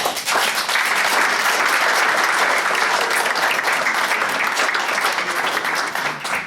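A large audience applauds steadily and loudly to welcome a woman taking the stage at a talk on the role of MPs, a dense wash of many hands clapping without pause.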